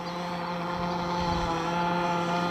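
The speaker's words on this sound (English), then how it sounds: "Engine sounds fantastic in that pipe." A gas-powered 48-inch RC catamaran boat engine runs steadily through a tuned pipe, a continuous high buzzing drone that holds at an even level outdoors, fairly close and alone with no talk.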